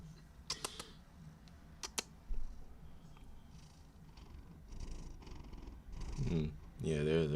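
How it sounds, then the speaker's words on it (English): A domestic cat purrs close by as a low, steady rumble, with a few sharp clicks early on and a voice talking over it in the latter half. "Yeah, there's that purr."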